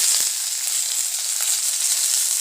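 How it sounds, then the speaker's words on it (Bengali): Raw tomatoes hit frying onions in a pan for a small-fish curry, producing a loud, continuous hiss of sizzling oil with faint crackles throughout. "যে পেঁয়াজটাকে ভেজে নিচ্ছে আগে মা। এবার কাঁচা টমেটো দিয়ে দিচ্ছে"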